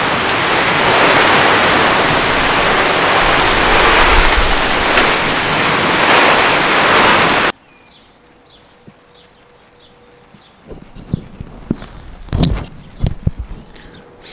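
Water splashes loudly and steadily onto newly planted tomato plants set in terra preta with sheep's wool and wood chips. The pour stops after about seven seconds, leaving quiet ground with a few scattered knocks and clatters.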